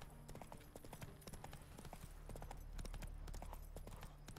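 Quiet, rhythmic clip-clop of horse hooves at a steady riding pace in the video game The Witcher 3, continuous and even over a low ambient hum.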